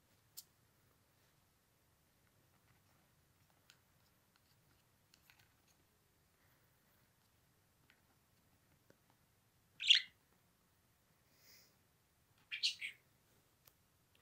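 A pet budgie gives a few short, bright chirps, two clear bursts standing out in an otherwise quiet room, close and fairly soft.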